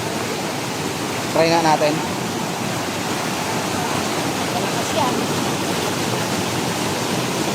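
Floodwater rushes hard during a typhoon in Mindoro, a steady loud roar of water running throughout, with a brief voice speaking early on.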